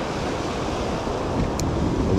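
Waves break on a summer surf beach during a shore jigging trip, making a steady, close roar of surf with wind buffeting the microphone and growing slightly louder toward the end; nobody speaks.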